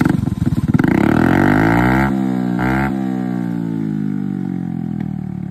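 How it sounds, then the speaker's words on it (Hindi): A Honda Activa 3G scooter fitted with a Yoshimura aftermarket exhaust revs loudly up close, its engine note climbing and falling in pitch with a short blip partway through before settling into a steady, droning idle-to-mid rev. "एक साउंड सुनो भाई पहले तो एग्जॉस्ट की"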